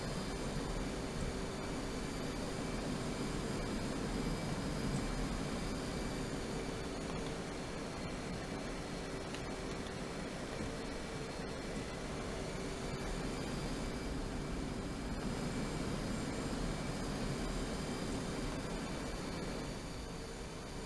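An F/A-18C Hornet jet cruising in the Digital Combat Simulator video game, a steady broadband engine roar with a constant whining hum, unchanging and loud throughout with no talking.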